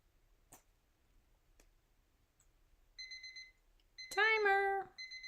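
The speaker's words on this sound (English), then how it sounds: "Timer." An electronic timer alarm goes off with repeated high beeps in a quiet room, preceded by faint knocks, and a cat meows loudly partway through.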